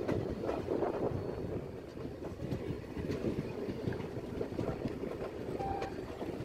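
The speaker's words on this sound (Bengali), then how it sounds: "যখন পাঠানকোট স্টেশন ঢুকলো আমাদের ট্রেন" A passenger train pulling into Pathankot station in the early morning, a steady rumble with rhythmic rail clatter and some wind buffeting, heard from near the carriage and without voices.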